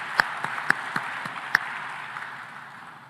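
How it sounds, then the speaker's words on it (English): Sparse, scattered claps come from a conference crowd at an African food systems gathering as finalists are applauded, a few sharp hand claps over a soft background hum, thinning out toward the end. "give another round of applause to the finalists"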